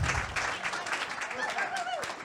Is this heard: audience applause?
yes